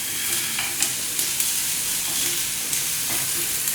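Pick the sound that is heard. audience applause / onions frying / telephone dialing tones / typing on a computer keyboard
onions frying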